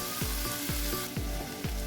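Vegetables fry over a low flame with a continuous close sizzle, marked by repeated rhythmic knocks of a utensil stirring the pan, with no talking.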